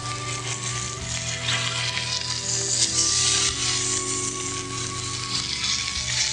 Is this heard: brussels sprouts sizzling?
yes